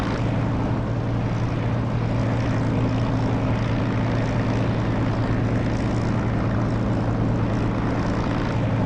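Aircraft engine running after landing in the DCS flight simulator, a steady propeller drone with a constant low hum and even broadband roar, loud and unchanging throughout.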